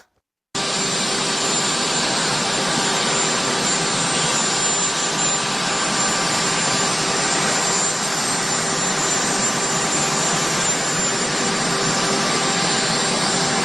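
The jet engines of Trump's plane roar as it arrives, a loud, unbroken whining rush that stays level for the whole stretch, with no talking over it.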